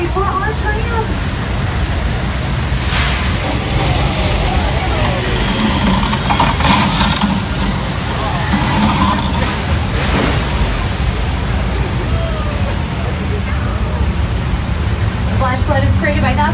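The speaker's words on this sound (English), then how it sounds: "it sounds like they've initiated the Hollywood flash flood. Oh, and it's heading directly for our tram." Studio-tour flash flood effect, thousands of gallons of recycled water rushing toward a tram: a steady broadband roar like heavy surf or a waterfall, continuous and loud throughout, with occasional louder surges.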